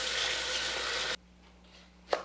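Green garlic leaves are washed under running water in a sink, a steady, fairly loud splashing rush that cuts off abruptly, leaving a quiet room and then one brief clatter.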